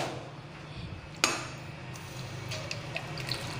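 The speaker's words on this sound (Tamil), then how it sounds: "இன்னொரு கிளாஸ் தண்ணி ஆட் பண்ணிக்கலாம்" Water pours into a pot of fish gravy in a short stream, a splash and trickle against a quiet room background.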